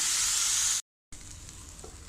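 Loud, steady sizzling of chopped raw jackfruit rind and onion frying in a hot pan, broken by a brief silent gap before the frying hiss resumes with faint stirring scrapes.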